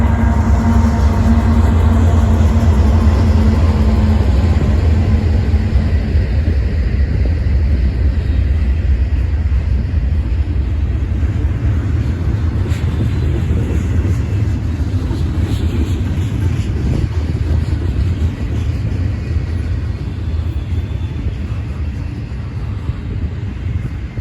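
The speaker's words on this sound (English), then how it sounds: "The next train to come was a slow-rolling NS-24M with a couple of JB Hunt stacks up front." A slow-rolling Norfolk Southern freight train carrying stacked containers passes in northern Indiana, producing a continuous loud low rumble and rolling noise that slowly fades over about twenty-four seconds.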